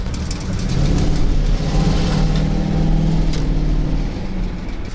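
A car pulls away to turn around, heard from inside as a steady, loud, low engine rumble and drone that holds for several seconds with no talking.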